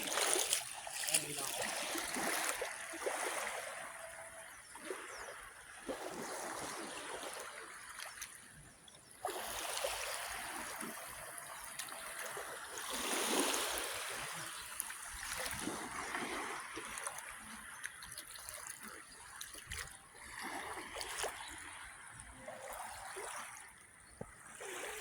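Sea water splashes and washes along a sandy shore in a continuous, faint, close sloshing, with people talking over it throughout.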